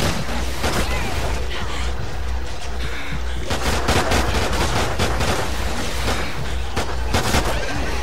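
Loud, sustained automatic gunfire and heavy shots from Call of Duty Ghosts Extinction fill the whole stretch in rapid bursts, with voices talking over the battle.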